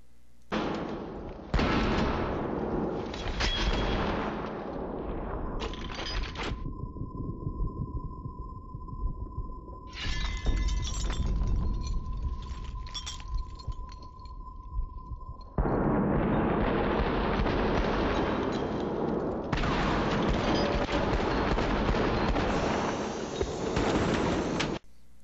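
Gunfire and explosions from the Xbox 360 game Battlefield: Bad Company come in loud, dense bursts of battle noise, with a steady tone held through a quieter middle stretch before heavy firing resumes.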